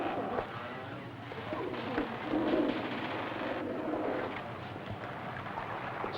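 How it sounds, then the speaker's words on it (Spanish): A dove or pigeon coos softly, with low murmuring calls repeated a few times over a faint outdoor background. "Noé envió a una paloma fuera del arca esperando que encontrara tierra firme y vegetación"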